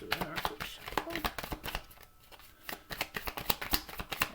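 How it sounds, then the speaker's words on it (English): A deck of tarot cards is shuffled by hand in quick repeated riffles, a rapid series of crisp flapping snaps close to the listener, pausing briefly before resuming. "We'll do another quick shuffle."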